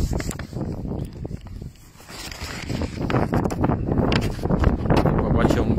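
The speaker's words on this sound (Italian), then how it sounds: "Ecco, qua c'è un vento." Wind gusting outdoors into an open microphone, a broad rumbling buffet that dips briefly then builds louder and steady, with someone speaking over it.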